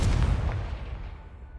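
A burst of the Confringo blasting spell going off in a Harry Potter-style video game, a loud booming explosion with a sharp attack that rumbles and fades over about a second and a half.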